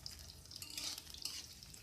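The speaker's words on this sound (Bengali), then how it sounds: "আলুগুলোকেও বেশ খানিকক্ষণ নেড়ে চেড়ে আলুগুলোকে একটু ভেজে নিতে হবে।" Potatoes are stirred and fried in a pan for a Bengali prawn malai curry: a quiet, continuous hiss of frying with faint scraping movements, heard close up and alone.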